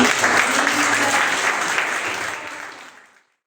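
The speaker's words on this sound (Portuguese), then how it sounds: "Dê um aplauso a essas mães" A church congregation applauds the mothers in a loud, dense round of clapping that fills the room and then fades out over about three seconds into silence.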